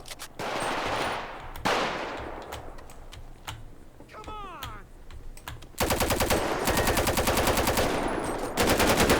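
Rapid automatic machine gun fire in the video game GTA 5, with several sharp bursts and then a long sustained volley of fast even shots, loud and close, with a brief mechanical whir partway through.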